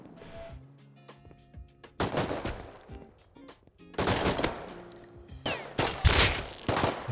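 Gunfire in the survival video game Rust: sharp, loud shots come in several clustered bursts with quieter gaps between them, and faint game tones sound underneath.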